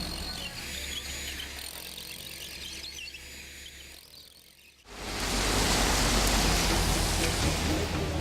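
Heavy, pounding rain falls over the city of Nice as it is prepared for a G20 summit. It starts abruptly midway as a loud, dense, steady hiss after a quieter stretch of background hum and insect-like chirping.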